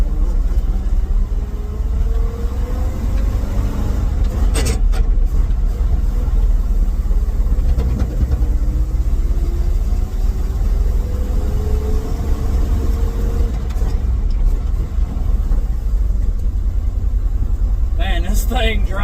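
A Ford F350 dump truck drives with a steady low engine rumble and road noise, slightly chuggy, continuous and close throughout, with a few faint knocks and rattles.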